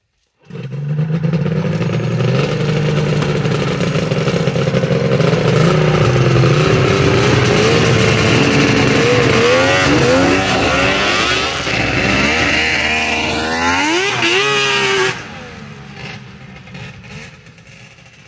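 Polaris Indy snowmobiles doing laps roar steadily and loudly with shifting engine pitch as sleds pass and rev, the engine note rising then cutting off near the end, leaving a quieter fading drone.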